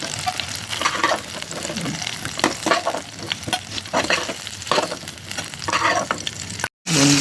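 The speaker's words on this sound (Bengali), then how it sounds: "এইবার আর একবার মাছগুলোকে ভেজে দিচ্ছি" Steady, busy sizzle of pomfret fish frying in a wok with scraping stirs, continuous and close, cutting out briefly near the end.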